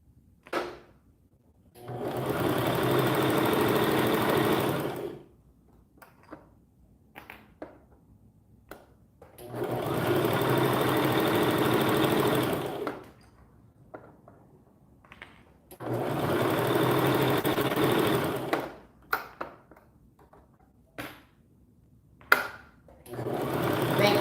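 A sewing machine stitches fabric for a summer top in three steady runs of several seconds each, separated by pauses filled with small clicks and handling taps, close and moderately loud.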